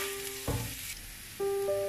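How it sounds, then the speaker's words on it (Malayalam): Crushed garlic dropped into hot oil in a pan gives a burst of sizzling and frying, with a steady tone sounding alongside, close and clear with no talking. "അപ്പൊ ആദ്യമായിട്ട് നമുക്ക് വെളുത്തുള്ളി അതിലേക്ക് ഇട്ട് കൊടുക്കാം."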